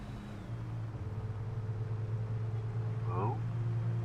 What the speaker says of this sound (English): this car sounds like an electric car